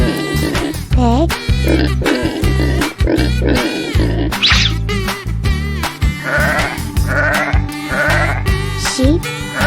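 A cartoon sheep lets out several loud wavering bleats in quick succession over pulsing, upbeat music, the calls close and repeated throughout.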